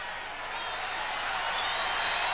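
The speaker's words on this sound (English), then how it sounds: "Crowd trying to get the defense fired up for West Virginia." Stadium crowd at a 1997 Marshall at West Virginia college football game roars steadily, a dense sustained cheer rising slightly toward the end, urging on the West Virginia defense before a third-down play.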